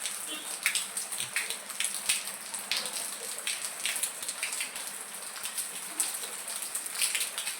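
Steady morning rain falls on an outdoor market street, a dense even hiss of drops with scattered sharper splatters nearby and no pause throughout.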